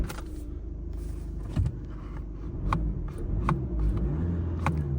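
A 2.0 VW Golf MK6 engine, just fitted with a new throttle pedal, rumbling at idle and rising a little as it revs, with a few sharp knocks and clicks near the car.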